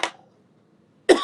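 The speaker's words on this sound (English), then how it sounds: "I have a little cold and a little cough" A cough from a person with a cold, one short burst near the start and another sharp burst at the end, separated by near silence.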